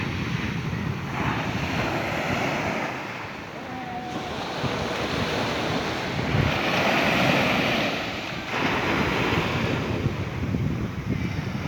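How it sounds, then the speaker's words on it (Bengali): Ocean surf along the Kerala shore rolls in with a heavy, continuous roar, swelling and easing as large waves break, while wind buffets the microphone throughout; no voices. "সাগর দেখুন, সাগর কি ঢেউ"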